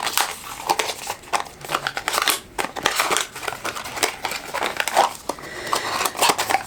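Kiehl's Skin Transforming Cream face cream packaging is torn and crinkled open: close, loud, continuous crackling and crumpling of paper and plastic wrap with irregular sharp rustles throughout, no voices.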